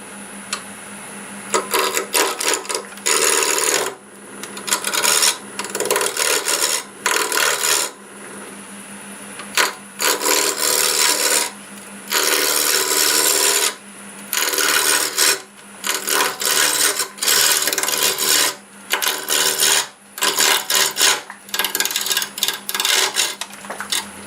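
A wood lathe spins a block of very hard ironwood at about 1100 RPM, with a low motor hum underneath and loud, harsh bursts of scraping as the tool repeatedly bites into the wood, separated by short quiet gaps.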